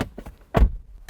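Door of a 2022 Toyota LandCruiser 300 Series GR Sport shutting with a single solid, low thunk near the middle, preceded by faint handling clicks and followed by a brief quiet tail.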